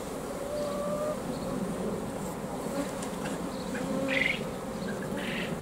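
Honeybees buzz steadily around three hives on a suburban allotment in July, a close, continuous droning hum with individual bees passing near and away, rising slightly toward the end.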